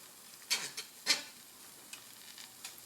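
Vegetables and onions sauté in a pan over medium heat, a faint soft sizzle broken by two brief scraping stirs and a few lighter taps, close but quiet with no voices.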